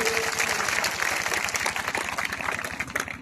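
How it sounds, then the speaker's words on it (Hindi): Crowd clapping in welcome at an outdoor election rally in Kaimur, Bihar, a dense steady patter of many hands filling the clip at moderate loudness with a faint tone near the start. "जोरदार ताली बजा करके स्वागत करिए"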